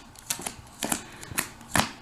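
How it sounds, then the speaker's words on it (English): Magic: The Gathering cards being pile shuffled by hand, giving a series of close, crisp papery slaps and riffles in irregular bursts, each card stack landing with a short flutter. "Pile shuffle."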